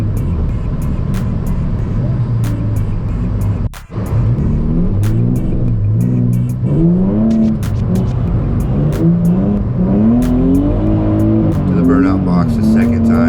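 A Nissan 350Z drifting at Evergreen Speedway, its engine droning loud and close with rising and falling revs as it slides, a brief cut near four seconds, and a voice talking over it.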